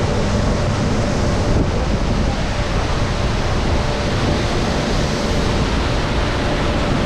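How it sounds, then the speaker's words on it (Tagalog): Strong, steady wind roars across the microphone, a dense broadband rush with no breaks, loud and constant throughout, with a faint tonal hum underneath. "Kusuging hangin."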